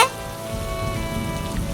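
Steady cartoon rainfall patters evenly on surfaces on a rainy day, a soft continuous hiss under a faint sustained musical tone, with no speech.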